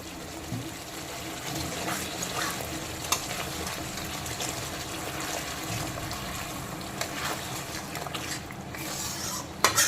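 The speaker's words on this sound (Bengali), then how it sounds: "এখন আমি কড়াইতে দিয়ে দেবো কিছুটা গরম জল বা ফোটানো জল।" Hot water poured into a kadai of well-cooked masala while making doi pabda, a continuous sizzling wash with faint clinks of utensils throughout, no one talking.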